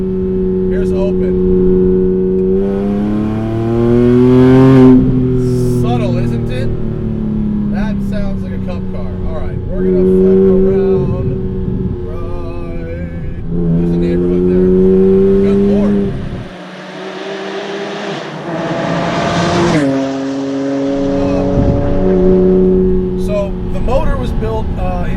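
A 400 WHP naturally aspirated 4.2L wide-body Porsche Cayman with its exhaust baffle open revs hard and close, repeated throttle blips rising and falling in a loud howl, with a short pause before the revving resumes.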